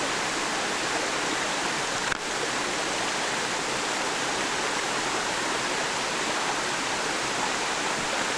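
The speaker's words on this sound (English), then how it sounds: "What is the name of this waterfall?" A waterfall roars steadily from start to finish as constant, loud broadband rushing water, near and unbroken, with a single faint click partway through and no voices.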